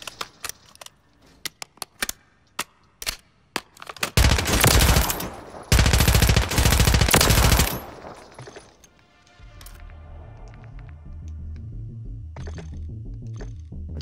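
AMR9 submachine gun fire in Call of Duty: Warzone, with scattered single shots, then two loud sustained automatic bursts, followed by a low rumbling hum.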